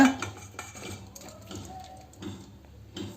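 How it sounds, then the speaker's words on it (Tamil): Banana pieces fried in ghee are stirred through a coconut milk mixture in a pan, giving soft, steady scraping and light clinks of a utensil against the pan throughout, fairly close and moderate in volume. "இப்படி கிளறி விட்டுட்டே இருப்போம்"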